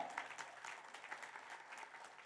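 An audience at a meditation gathering claps together in a soft, distant, continuous round of applause that holds steady for a couple of seconds.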